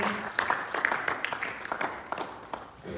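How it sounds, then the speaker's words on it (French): A church congregation claps and applauds the Lord in a dense burst of hand claps with a few raised voices mixed in, fairly close and steady before tapering off. "Est-ce qu'on peut acclamer le Seigneur?"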